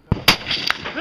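Rifle shots at an outdoor practical rifle match, two sharp loud cracks close by in quick succession with a brief ringing tail afterward.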